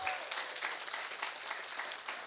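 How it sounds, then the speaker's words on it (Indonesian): An audience claps steadily at a motivational talk, a faint and even wash of applause with no break across the moment. "Tepuk tangan lagi."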